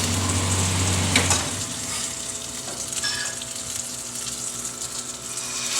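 Garlic sizzles in hot oil beside salmon in a pan, a steady loud crackling fry that continues throughout, with a brief clatter near the start.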